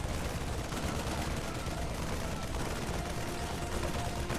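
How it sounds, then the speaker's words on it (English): Dense, continuous gunfire from Terran Marines in a StarCraft match, a steady rattling barrage of rifle shots mixed with game battle noise, with no pauses across the stretch. "these Marines are going to start shooting some bullets at it in an effort to kill it."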